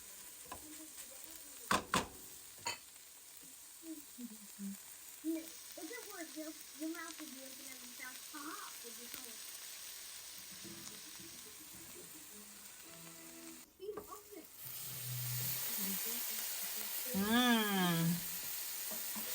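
Bitter gourd sizzling and frying in oil in a pan, soft crackling with intermittent stirring scrapes and a louder burst of sizzle near the end, faint voices in the background.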